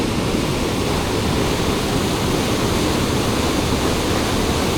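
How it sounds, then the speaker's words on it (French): A waterfall roars loudly and continuously at close range, a dense, steady rush of falling water with no voices. "Moi, je veux juste voir la cascade."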